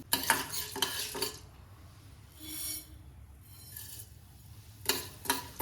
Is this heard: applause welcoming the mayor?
no